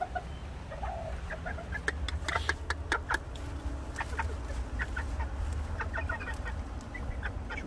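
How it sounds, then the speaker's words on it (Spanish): A hen on a farm clucks in short, scattered bursts, fairly close, over a low steady background hum during a coop cleaning. "Chulada de gallina."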